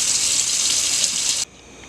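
Dried peas being rinsed and washed by hand under a running kitchen tap, with a steady, loud gush of water that cuts off abruptly near the end, leaving a quieter hiss.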